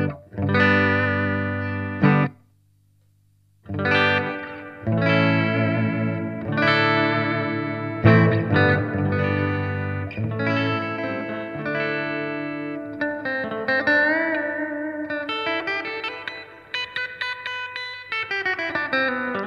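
An electric guitar played through a Peavey Rage 158 amp, chords ringing out dry at first, then later phrases with added reverb and a short pause early on.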